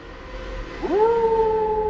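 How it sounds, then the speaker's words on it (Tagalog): A loud, drawn-out dog howl rises sharply and then holds a long, steady wailing tone over a low background rumble, with no other sounds on top. "bigla silang nakarinig ng isang malakas na alulong ng aso"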